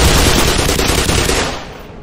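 Enemy shotgun fire in the Black Mesa shooter game erupts as a short, dense, loud burst of gunfire, roaring for about two seconds before tapering off.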